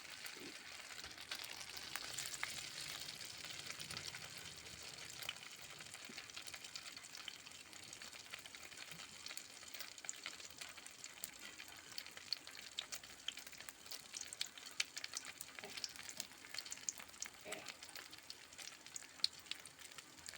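An egg omelette with a wheat-flour chapati laid on top fries in a pan, giving a steady, soft sizzle and crackle throughout with no talking.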